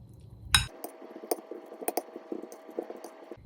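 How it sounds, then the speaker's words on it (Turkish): Boiled cauliflower tossed with yogurt in a bowl: a sharp clatter, then a run of light spoon clinks and wet scraping at close range. "Yoğurtla güzelce karıştıracağım."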